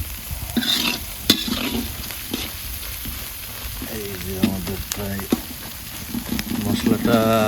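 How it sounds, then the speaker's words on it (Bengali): Home-raised broiler chicken pieces stir-fried bhuna-style with turmeric and chili powder for biryani: continuous sizzling and frying with occasional spatula scrapes against the pot, while people talk over it. "মাংসটা ভুনা ভুনা"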